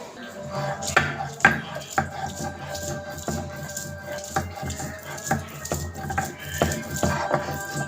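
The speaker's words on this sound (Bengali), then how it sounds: "এগুলো কিন্তু একবারে পাটায় ভালোভাবে বাটতে হবে" Dried fish (shutki), garlic and onion are ground on a stone slab, making repeated scraping and knocking strokes in an uneven rhythm. The sounds are close and moderately loud, with a faint hum beneath.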